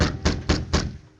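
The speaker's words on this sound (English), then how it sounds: "the Lone Ranger rapped sharply on Joe's door" Four sharp knocks on a wooden door in an old radio drama, evenly spaced and fairly close, standing alone with no talk over them.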